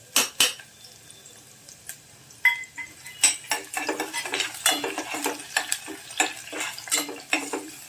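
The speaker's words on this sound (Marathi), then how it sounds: "हे बघा तेल तापलं, कांदा घाला" Chopped medium onion sizzling in hot oil in a pan while chole paneer is being made, with clinks of a spoon or spatula stirring against the metal pan in a busy, irregular rhythm, close up and moderately loud.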